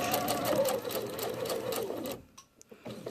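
Sewing machine stitching along a pillowcase edge, a rapid close whirring hum for about two seconds, then stopping abruptly, leaving a few small clicks and quiet.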